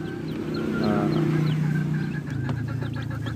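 A flock of young chicks cheeps steadily in a dense, continuous chorus, with clucking mixed in, at a backyard meat-chicken breeding setup after vaccination.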